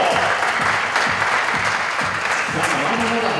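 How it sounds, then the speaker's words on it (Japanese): Spectators at an all-Japan mixed 10m air pistol competition clap steadily for a moment, a moderate and even wash of applause with a faint rhythmic pulse and no talk over it. "皆さん大きな拍手を送りましょう。"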